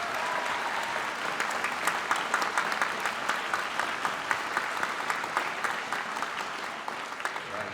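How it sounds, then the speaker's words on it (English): A crowd at a school district honor band concert applauds a middle school honor band, a full, even wash of clapping with scattered sharper claps standing out, steady and moderately loud throughout. "So we have one more round of applause for our middle school honor band"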